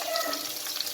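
Grated coconut frying with onions in a hot pan gives a steady, close sizzle with soft crackles, continuous throughout without any voice.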